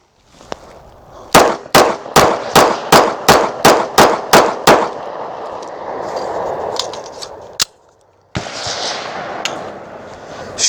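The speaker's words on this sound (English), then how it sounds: "we're gonna fire 10 rounds through this again" A Walther PPQ SC sub-compact pistol fires ten rounds in a quick, evenly spaced string, loud and close, followed by a lone later shot and metallic handling clicks.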